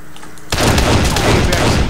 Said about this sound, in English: Shotgun for the win.